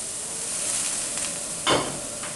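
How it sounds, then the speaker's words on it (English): Food sears in a hot pan with white wine, giving a steady close sizzle and hiss with a brief louder crackle near the end. "get a nice hot sear on it, brown the bottom, nice and golden"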